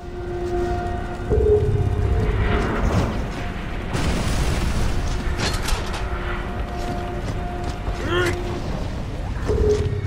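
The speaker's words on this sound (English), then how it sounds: "Another mortar!" Mortar shells explode amid combat in Gears of War: Judgment, heavy booms and bursts over creaking, mechanical game ambience, with a voice shouting briefly in between.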